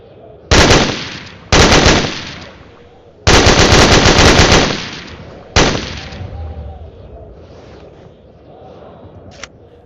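A 1930 Italian light machine gun in a video game fires a full magazine in several loud, close bursts of rapid automatic fire, with pauses between bursts and mechanical clatter trailing off.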